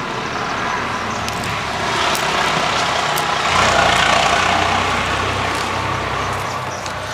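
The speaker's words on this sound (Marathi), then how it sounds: "आता हे ट्रॅक्टर गेलं, ह्या ट्रॅक्टरमध्ये सुद्धा कडबा आहे." A tractor hauling chopped fodder on a farm rumbles past, its steady engine drone swelling in the middle and easing off, loud and continuous with no talk.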